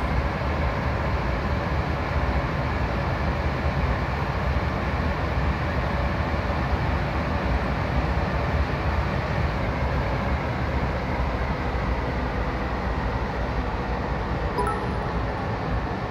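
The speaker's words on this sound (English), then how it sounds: "Stretching the train out at the moment." Freight train running in the Train Sim World video game, a steady loud rumble of engine and rolling wagons, continuous and unvarying, with no talk.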